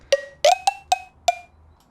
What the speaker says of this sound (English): maybe we can do it with the wood block again